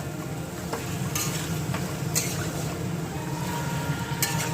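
Yogurt chicken and potatoes stir-fried in a pan, a steady close sizzle with soft scraping stirs of a spatula and a few sharper clinks against the pan.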